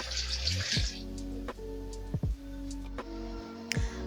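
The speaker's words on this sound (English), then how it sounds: "Add a glass of water to the mix and just blend everything together." A kitchen blender mixes smoothie ingredients with a glass of water, giving a steady motor hum with a splashy pour at the start and a few knocks and clunks along the way.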